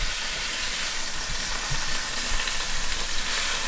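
Chicken pieces browning in a frying pan under a splatter screen, a loud, steady close sizzle and crackle of hot oil with occasional pops, no talking.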